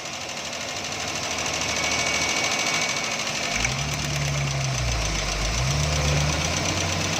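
A car engine, just fixed of a spark plug misfire, runs at a steady idle, a close, even mechanical hum and chatter that rises and falls slightly in pitch.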